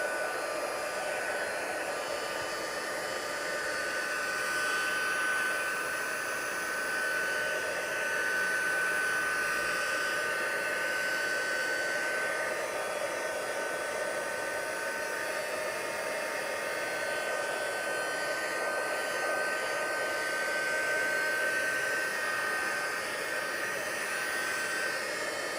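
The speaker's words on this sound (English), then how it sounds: "I'm going to get my heat tool out just to speed it up a little bit." A heat tool blows hot air onto embossing paste on a scrapbook page, giving a steady, loud, airy whir with a thin motor whine that holds unbroken for nearly half a minute, with no voices.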